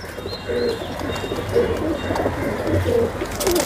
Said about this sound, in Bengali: আপনাদের কবুতরগুলো দেখাচ্ছি